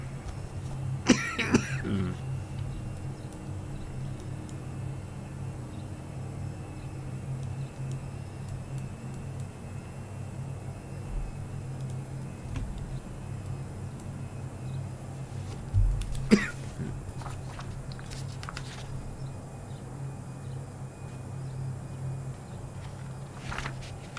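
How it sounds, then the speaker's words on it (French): A person coughs in a few short bursts, once near the start and again later, over a steady low engine drone inside an aircraft climbing to about 18,000 feet. "J'espérais ne pas tousser, mais bon."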